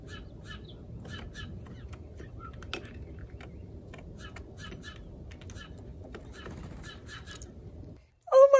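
Steller's jays call at a peanut feeder outdoors, giving a series of short, harsh scattered calls and clicks against a quiet background, with a brief louder sound at the very end.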